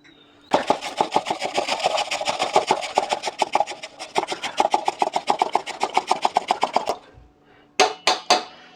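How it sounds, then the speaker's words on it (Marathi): A red pumpkin is grated by hand in fast, even rasping strokes that run steadily for several seconds, pause briefly, then resume with a few final scrapes, close and clear with no talking. "अशा पद्धतीने आपल्याला जेवढा लागतो आहे तेवढा भोपळा आपण किसून घेऊ"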